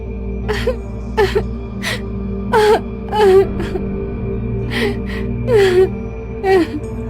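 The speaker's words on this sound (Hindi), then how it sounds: "उसे किसी लड़की के रोने की आवाज सुनाई देने लगती है।" A girl cries in drawn-out, wavering wails and sobbing gasps over a constant low drone, repeating in uneven bursts for a horror sound effect.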